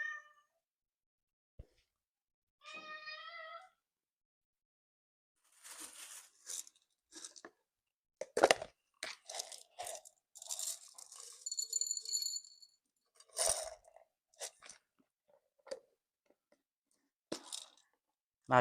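A cat meows a few times amid sporadic crunching and rattling of dry food being eaten, with quiet gaps between bursts.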